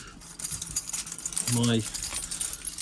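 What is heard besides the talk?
keys jangling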